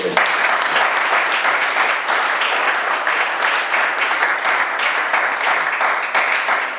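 A church congregation applauds steadily throughout, a dense, even wash of clapping at constant loudness from start to finish.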